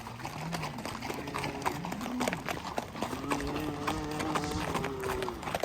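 Horses' hooves clip-clop in a loose, uneven rhythm during a ride over rough ground, steady and moderately close, with faint background noise throughout.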